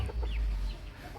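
Silkie chickens clucking softly at close range, a few short calls over a low rumbling background.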